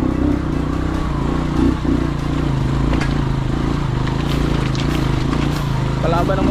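A motorcycle runs steadily along a mountain expressway, its continuous engine and road noise holding loud and close throughout, with faint clatter on top.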